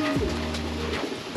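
A racing pigeon coos close by, a low, repeated throaty rolling call heard clearly against steady background noise.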